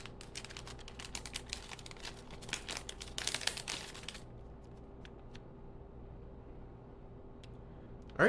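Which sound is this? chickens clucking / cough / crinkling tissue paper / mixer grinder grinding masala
crinkling tissue paper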